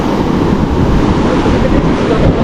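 Big ocean waves at a beach rush in a constant loud wash of surf, heavy with wind buffeting the microphone.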